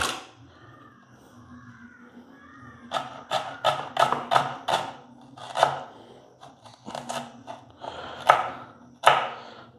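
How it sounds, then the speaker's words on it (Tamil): Rapid knife chops on a cutting board as onions are finely diced, a quick run of sharp taps followed by a few more scattered strokes, close and clear. "பொடி பொடியாக வந்து இந்த வெங்காயத்தை வந்து நறுக்குவோம்"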